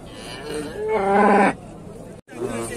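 A cow at a livestock market gives a long, loud, nearby moo that rises and then cuts off, with a murmur of crowd voices and bustle around it.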